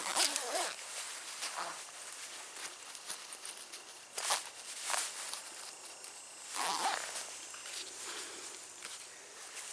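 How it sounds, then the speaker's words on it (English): A zipper on a Bushline bug jacket is run around the hood in a series of short, quiet zipping strokes with pauses between them, heard close up and without talk. "Now the zipper zips all the way around to seal out all the mosquitoes."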